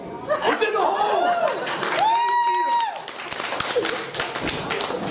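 A comedy club audience claps and laughs for a few seconds at a stand-up comedy night, a steady patter of applause mixed with cheering and a sustained whoop rising above it.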